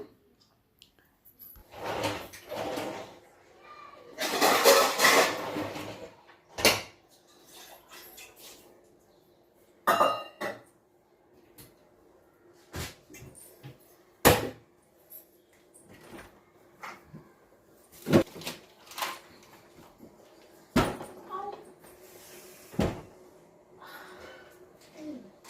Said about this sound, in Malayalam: ഡോർ അടക്കുന്ന സമയത്ത് കാലിന് നന്നായിട്ടൊന്ന് തട്ടിയിട്ടുണ്ട് കേട്ടോ. അപ്പോൾ അതാണ് ആ സമയത്ത് ഒരു ഒച്ചപ്പാട് കേട്ടത്.